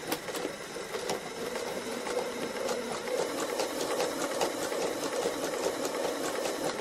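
Sewing machine running slowly during free motion embroidery of a fabric cow, a steady rapid mechanical needle clatter with a faint motor hum, close and continuous with no talking.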